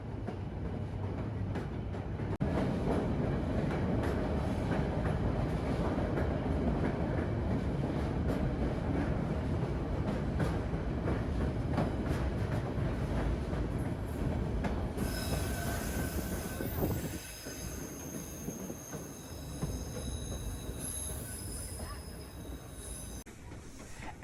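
A White Pass Railway train in Skagway, Alaska rumbles steadily along the tracks, wheels grinding and squealing with a high metallic whine that sharpens partway through.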